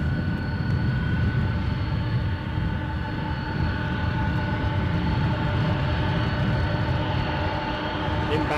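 A Delta airliner at Edinburgh airport rumbles close by with heavy low-frequency engine roar and a steady whine, loud and sustained throughout.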